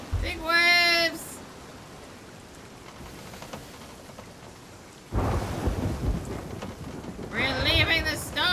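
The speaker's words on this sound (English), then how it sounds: "We're leaving the storm!" Stormy seas in the Sea of Thieves video game: heavy rain and rumbling thunder roll across the scene with a loud burst midway, while excited voices shout at the start and end.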